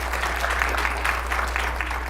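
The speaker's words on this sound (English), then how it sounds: "So please give a round of applause to Terry Bean there." A live audience applauds for Terry Bean at a 2014 event, a steady, even wash of clapping from many hands that carries unbroken through the whole moment with no voices over it.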